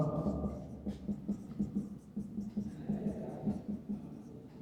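Chalk taps and scrapes rhythmically across a classroom board as a chemical formula is written, a run of short regular strokes, quiet and close, with faint room noise.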